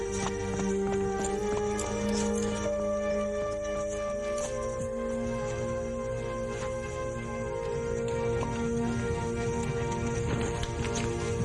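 Horse hooves clip-clop at a steady walking pace throughout, under a continuous bed of sustained music with tonal notes.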